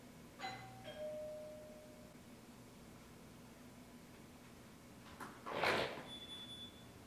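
A doorbell chime rings once, fairly clear, and its tone fades over a couple of seconds. A brief louder rustle or knock follows later against steady background hiss.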